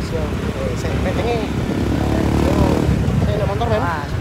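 A motorcycle engine drones and passes on a city street, a buzzing motor running steadily throughout under people talking loudly nearby.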